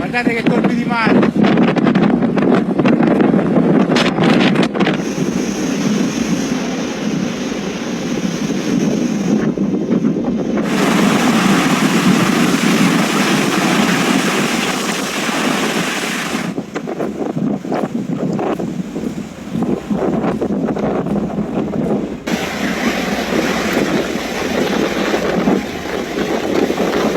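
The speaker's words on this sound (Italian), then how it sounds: "Guardate che colpi di mare!" Stormy sea waves crash against the seaside road at Lipari, Italy, with strong wind buffeting the microphone, a continuous loud roar of surf and gusts swelling and easing throughout.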